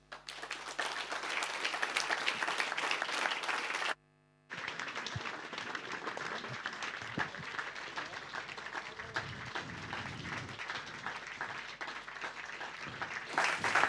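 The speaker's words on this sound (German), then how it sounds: "Begrüßen Sie jetzt mit einem grossen Applaus" Studio audience applause greets guests arriving on a Swiss talk show, dense continuous clapping broken by a brief cut, then carrying on steadily with talk faintly underneath.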